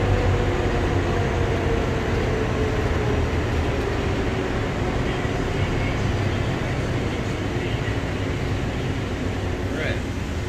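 An automated airport tram at Las Vegas airport runs toward the D gates with a loud, steady rumble and hum that carries throughout, and faint voices can be heard inside the car.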